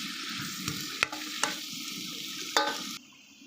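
Sotanghon noodles stir-fried in a pan, with a steady sizzle and several sharp scraping knocks of a utensil against the pan before the frying cuts off near the end.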